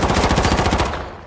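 Gunfire in the video game H1Z1 on PS4: a loud, rapid burst of repeated shots lasting about a second before cutting off.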